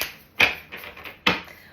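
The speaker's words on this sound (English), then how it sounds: "we're going to shuffle them one more time" Tarot cards being shuffled by hand, two crisp riffling bursts about a second apart with softer card slaps in between, close and clear with no talking.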